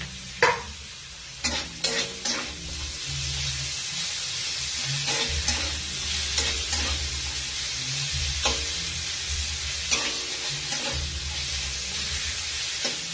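Capsicum strips and tomato frying in a pan, stirred steadily under a continuous loud sizzle, with repeated sharp scrapes and knocks of the spoon against the pan.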